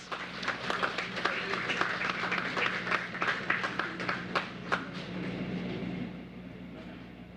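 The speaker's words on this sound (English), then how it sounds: "Let's welcome the PM with a lusty round of applause." An audience at the official commissioning of the Diego Martin - West Moorings Interchange applauds to welcome the Prime Minister of Trinidad and Tobago. Sustained, fairly loud clapping from a crowd tapers off near the end.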